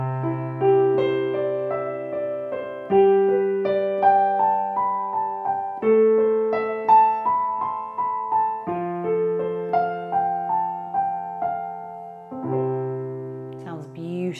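Piano notes ripple in a repeating pattern over sustained bass chords, the upper notes cycling through a few chord changes at an even, flowing pace.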